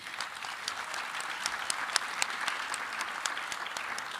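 Steady applause from a crowd, dense clapping that holds at an even level throughout with no talking over it.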